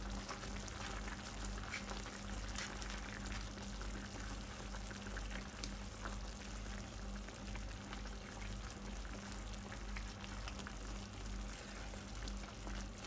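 Mango chutney with chili and dried coriander cooks in a pan, making a faint, continuous bubbling simmer that holds steady throughout with no speech.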